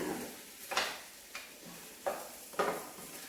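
Chicken with onion and masala being stirred in a pan, giving a few separate scraping and clinking spoon strokes spaced about a second apart over a soft background hiss, fairly close and quiet.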